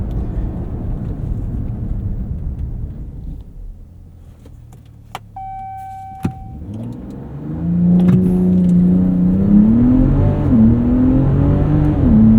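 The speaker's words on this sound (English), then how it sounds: "Let's do a quick launch and put that to the test." A 2025 Ram RHO truck does a launch-control start from a quiet idle and then pulls hard, its engine note rising loud and steady through the gears with no one talking.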